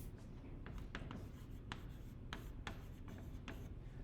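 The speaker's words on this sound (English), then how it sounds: "Let me write out radian." A word is written out by hand during a math lesson on circular motion, producing a quiet series of short scratchy pen or marker strokes in irregular rhythm, heard close and alone.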